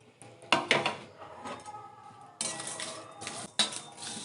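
Whole spices dry roasting together in a pan: cumin, bay leaf, cinnamon, fennel, three dried red chillies and coriander. A spoon or spatula scrapes and clinks against the metal in a few distinct bursts, with quiet stretches between them.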